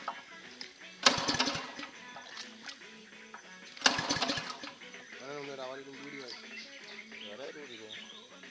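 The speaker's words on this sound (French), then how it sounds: "Il faudrait que le moteur puisse prendre du régime pour qu'on puisse vider" A motor for a watermelon farm's irrigation water source is started, with two loud, sharp cranking bursts a few seconds apart, then a lower, steadier running sound while a person talks over it.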